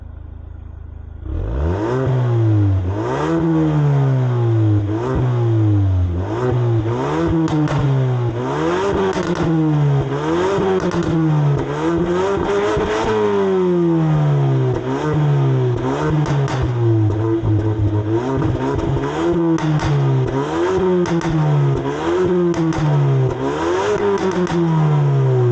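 A 2023 Ford Focus ST engine starts and revs repeatedly, its twin exhausts rising and falling in loud, rhythmic roaring bursts close by.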